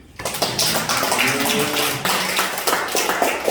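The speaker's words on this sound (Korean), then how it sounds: "주님께 영광의 박수를" A church congregation claps in praise during a Sunday worship service, a steady dense patter of many hands filling the space at moderate loudness, with faint voices mixed beneath.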